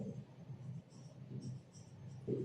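Soft scratchy pen strokes on paper in short bursts, faint and close, with quiet pauses between strokes and a low background murmur.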